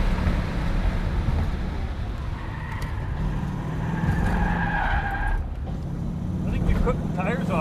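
At Mission Raceway, a Ford Mustang's tires squeal in a loud, sustained skid over the roar of its engine. The squeal rises and wavers for several seconds, then drops away and briefly returns.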